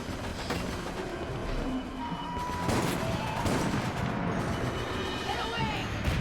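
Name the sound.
gunfire in video game Resident Evil: Operation Raccoon City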